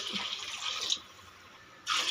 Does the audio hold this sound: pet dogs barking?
no